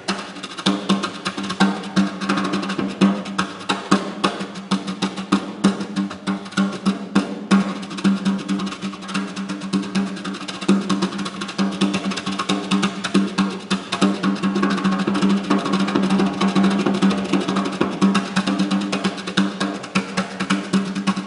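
Layered drum rhythms mixing hip hop grooves with triplet patterns, played together as one continuous dense beat, loud and close with no talking.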